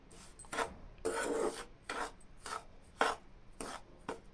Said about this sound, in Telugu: ఈ పెసరపిండిని నెయ్యిలో బాగా కలిసేటట్టుగా ఆ విధంగా అనుకోవాలి